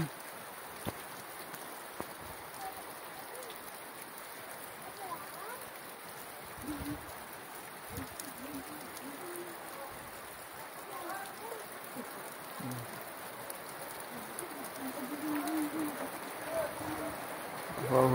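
Steady rain falls in Manika, Libacao, Aklan, Philippines as a soft, even hiss, with faint patters and low murmurs in the background throughout.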